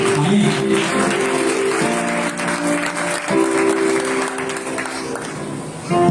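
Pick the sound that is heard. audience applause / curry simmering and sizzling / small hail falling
audience applause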